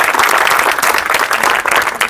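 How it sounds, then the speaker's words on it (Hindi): Loud, dense applause from an audience at a World Cancer Day event, steady clapping filling the whole stretch without letup. "पहले जोरदार तालियां हो जाए आज की इस विशेष दिन के लिए"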